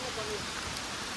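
Rain pours steadily in stopped traffic during a downpour, a dense, even hiss of drops striking nearby surfaces that fills the brief moment at a constant, fairly loud level.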